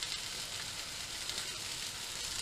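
Beef mince sizzles steadily in a hot pan for chilli, a dense, even crackle close up that runs without a break and carries no talk.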